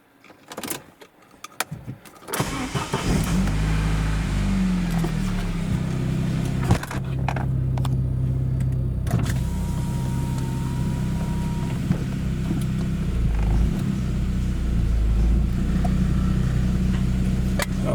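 Saab 9000 on a test drive after rear ABS sensor and wheel bearing work: a few clunks and handling noises, then the engine starts and hums steadily at low pitch with road and cabin rumble throughout, no talking.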